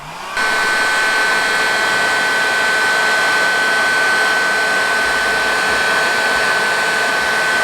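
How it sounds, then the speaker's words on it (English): A heat gun heats wires on a Mr Steele Alien 5-inch drone build, blowing a loud, steady, close whir that starts abruptly and holds without a break. "An easy way to do that is heat it up with a heat gun and twist it."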